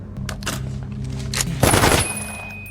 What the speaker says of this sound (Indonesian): Edu sempat kaget melihat keakuratan tembak Miguel yang mengenai kepala target